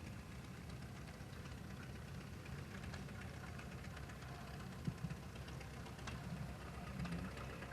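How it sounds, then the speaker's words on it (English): A Farmall M diesel tractor engine idles steadily outdoors, a continuous low rumbling knock with no talk, holding an even level throughout. "This is a Farmall M diesel."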